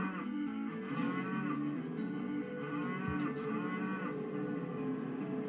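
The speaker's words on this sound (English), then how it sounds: "Two sheep and two cows." Cows moo repeatedly in a Thomas and Friends game on the V.Smile console, with sheep crossing alongside. Drawn-out lowing calls overlap each other over a steady bed of cheerful game music.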